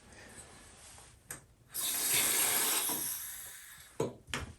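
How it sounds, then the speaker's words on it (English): Water pours from a spout into the pot of a Pilea libanensis plant for a couple of seconds, a close splashing trickle bracketed by a few soft knocks and handling sounds. "I can go ahead and water this"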